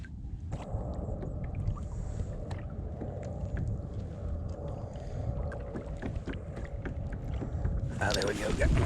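A small fishing boat is paddled slowly through calm water, with soft sloshing and dull wooden knocks under steady wind noise, and a louder splash near the end.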